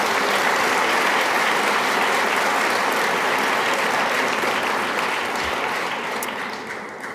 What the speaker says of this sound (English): So big round of applause for those guys